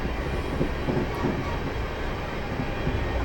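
A Class 450 electric multiple unit in Train Simulator 2020 runs steadily, giving a continuous rumbling rail drone with faint wheel clatter and no voices.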